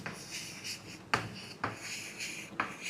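A short passage of handwriting, with a pen or pencil scratching softly and close in brief strokes and a few light taps as a sentence is written, and no voices.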